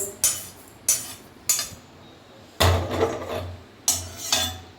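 A spoon clanks and scrapes against a hot pan as dry-roasted lentils are scooped out while making homemade kuzhambu chilli powder. About six sharp metallic knocks come at uneven intervals, close up, with quiet gaps between them.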